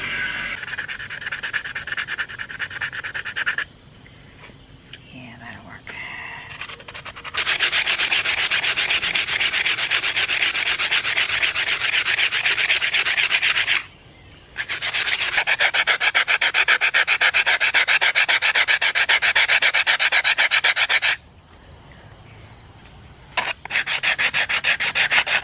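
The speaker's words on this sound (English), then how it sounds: "I can sand away the lettering." Sandpaper rubbing away painted lettering on a restored railroad handbrake lever sign, in long loud stretches of steady abrasive scraping broken by short pauses.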